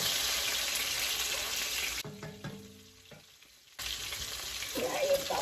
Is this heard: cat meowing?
no